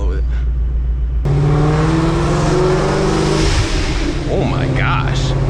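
A 1100-horsepower Ford Mustang drives at night through downtown Los Angeles, its loud engine droning and then swelling into a roaring, echoing rev as it passes under an overpass, heard from inside the car.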